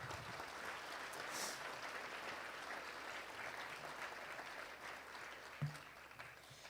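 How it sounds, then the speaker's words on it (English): Sustained applause from an audience at a spring service-group recognition event held on site, a steady dense wash of clapping filling the whole stretch at moderate level with a brief louder thump near the end. "So please do give this group a big round of applause."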